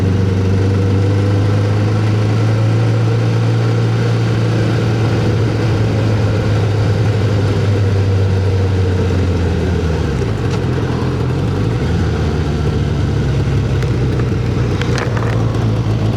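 Suzuki GSX600F motorcycle engine while riding, a loud steady low drone close up with wind rush, pitch dipping briefly as the engine shifts.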